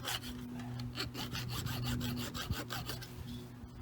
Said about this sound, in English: I take a hacksaw and I saw those clinches off, just like that.